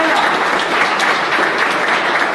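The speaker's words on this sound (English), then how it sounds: "Give them a round of applause." Dense, steady round of live applause from a business-school audience, loud and continuous throughout with no break.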